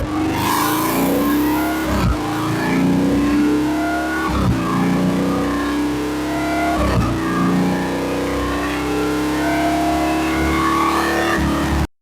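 A Harley-Davidson M8 motorcycle engine roars loudly and continuously on a dyno during a baseline run. The pitch climbs in repeated surges, and a sharp break between each one marks a gear change.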